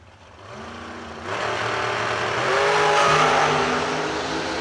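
A McIlvain Shorty nitrous drag race car at a Working Man's $10 Grands event: loud engine rumble with stepped revving that swells louder and holds steady near the end, with no talk.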